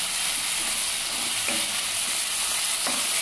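Dill leaves frying in a hot pan, a dense, steady sizzle close by, with a couple of soft scraping strokes as they are stirred.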